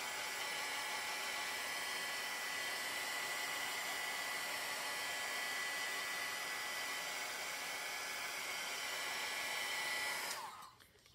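A hair dryer blows in a continuous, steady whoosh over chalk paste on a craft board, running alone and close for about ten seconds before being switched off and winding down.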